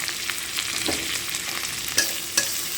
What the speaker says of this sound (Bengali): টমেটোটা দিয়ে খানিকক্ষণ ভাজবো